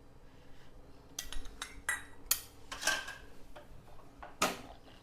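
A metal spoon stirs and scrapes grated coconut in ghee in a pan, giving several quiet irregular clinks and scrapes close by, with no talk.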